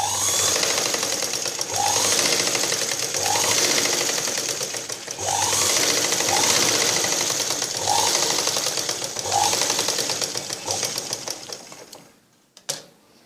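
A sewing machine stitches a line along a blouse neckline in close, rhythmic bursts of rapid needle chatter, pausing briefly between runs and stopping near the end.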